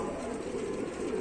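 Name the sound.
domestic pigeons cooing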